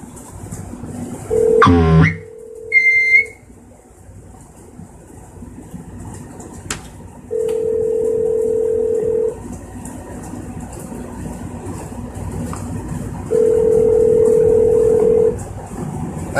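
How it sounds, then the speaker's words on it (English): A telephone line gives a burst of dialing tones, then a steady tone sounds in long, evenly spaced pulses, like a ringback pattern, with a faint hiss of line noise between them. "Usually don't hear a dial tone"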